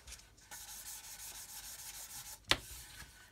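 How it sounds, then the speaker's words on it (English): A sanding sponge rubs over a car panel to remove sanding marks, producing a soft rhythmic scrubbing of repeated strokes close to the microphone, with one sharp louder scrape near the end. "the sponge will just basically remove any sanding marks that we've put in there"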